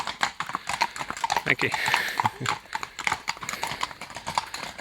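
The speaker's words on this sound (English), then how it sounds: "I hope you saw the horses" Horses walk past with a steady, fairly close clip-clop of hooves, the rhythmic hoofbeats running throughout while a person speaks briefly over them.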